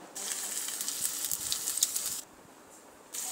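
Ginger and five-spice seeds fry in hot oil in a pan for a Bengali cucumber dish, giving a steady, bright, fairly close sizzle that drops away briefly before returning.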